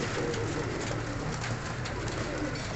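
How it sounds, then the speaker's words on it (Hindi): A pure Sialkoti pigeon coos steadily and close up, a continuous low murmuring call over a noisy, dense background. "तुम देखे प्योर सियालकोटी कबूतर है माशाल्लाह"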